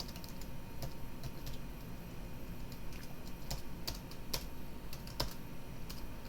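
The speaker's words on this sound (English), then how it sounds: "I can just type in new GUID" Keys on a computer keyboard click in quick, irregular taps, soft and close, with no voice over the typing.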